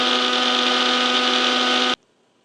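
A small mixer grinder jar whirs loud and steady, grinding dried red chillies into masala powder, then cuts off abruptly near the end, leaving near-silence.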